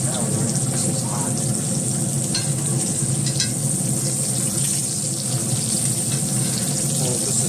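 Steak sizzles steadily in a hot cast iron skillet inside a Pit Boss pellet smoker grill, a constant loud frying hiss with faint scraping from basting throughout.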